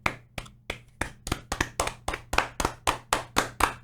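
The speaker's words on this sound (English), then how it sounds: "Everyone clap for Gary." A small group claps for Gary in a steady run of about fifteen sharp, close claps, loud and fairly evenly spaced with no talking.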